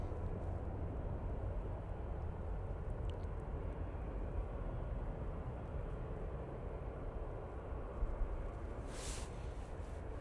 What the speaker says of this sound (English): And that is the Ryanair coming from Dublin.